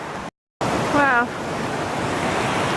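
Loud rushing water from a Lake District waterfall fills the scene with a steady broadband roar, cut by a brief dropout near the start, while a voice speaks briefly over it.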